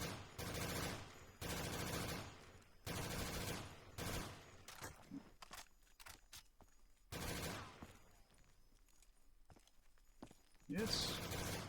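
Bursts of MP5 submachine gun fire in Black Ops 3 Zombies, several loud rapid-fire volleys separated by short pauses, with quieter in-game noises between them.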